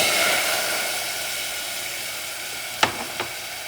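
Red wine vinegar hisses and sizzles in a hot pan of caramelizing citrus chicken, a steady broad crackle throughout, with two sharp utensil clinks or scrapes near the end.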